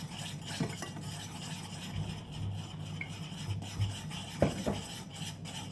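Flour is stirred into chocolate cake batter, a soft, continuous scraping and rubbing of a utensil against a bowl with occasional light knocks, close and fairly quiet.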